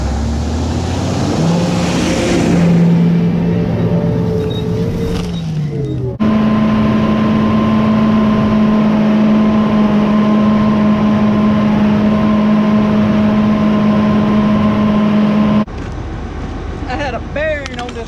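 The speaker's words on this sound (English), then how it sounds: "it's getting difficult to run this tractor" A farm tractor with an electrical problem strip-tills cotton into a wheat field, its engine a loud, steady droning hum that shifts pitch abruptly twice, with no voices over it.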